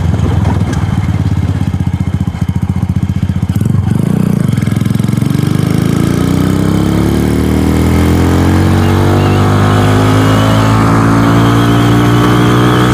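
A DF250RTS / Venom X22R motorcycle with new sprockets accelerates hard through the gears, its loud close engine note climbing in pitch, dropping at a shift, then climbing again steadily.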